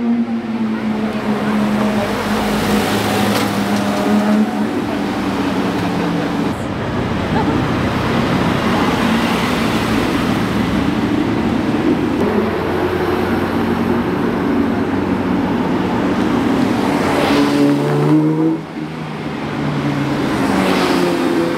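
Cars at a Nürburgring track day on the Grand Prix circuit produce a loud, continuous engine drone, with pitch rising and falling as they accelerate and pass, and a sweeping pass-by near the end.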